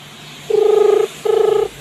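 A phone ringtone sounds loud and close: two long buzzing purring bursts of steady tone, each about half a second, separated by a short gap.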